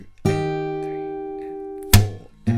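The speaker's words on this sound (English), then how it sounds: "by hitting the 3rd string, you'll just get a muted sound" A guitar rings out a sustained strummed chord from the riff, followed by two sharp percussive hits from a muted third string near the end. The guitar is close and clear, with no voices.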